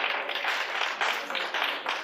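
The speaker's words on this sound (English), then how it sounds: "Let's give her a round of applause." An audience at a career workshop claps briefly, a soft steady patter of many hands, faint and fairly distant, lasting only a couple of seconds.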